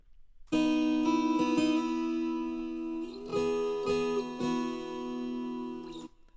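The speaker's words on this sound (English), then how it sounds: "So we got this main guitar right here." A lead guitar part played solo, a clean sustained line of held notes with a few changes in pitch, moderately loud and alone without any talking.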